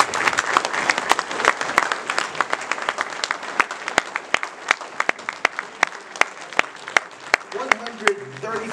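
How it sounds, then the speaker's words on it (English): An audience at an anniversary celebration applauds veterans with dense, sustained clapping that gradually thins into scattered claps, and a voice comes in briefly near the end. "We owe you a great round of applause."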